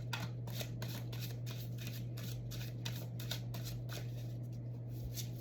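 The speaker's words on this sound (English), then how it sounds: "We'll just do one more shuffle through." Tarot cards are shuffled repeatedly in an even series of quick crisp riffles and flicks, close and fairly quiet, over a steady low electrical hum.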